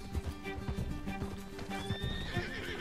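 A horse in the Red Dead Redemption 2 video game gives a clear, close whinny over a steady clip-clop of hooves. Background game music and ambience continue underneath throughout.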